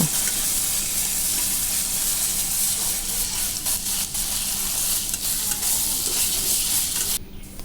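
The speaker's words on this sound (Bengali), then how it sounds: "এখন আমি সবগুলো করে খুব ভালো করে ভেজে নেব" Food stir-fried in a pan with tomato and soy sauce sizzles loudly and continuously, with repeated scraping stirs of a spatula close up and no talking.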